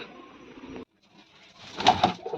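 Loft pigeons, a copper-coloured male paired with a smoky-grey female, give soft, throaty coos after a short quiet gap, the sound swelling near the end over faint rustling in the loft.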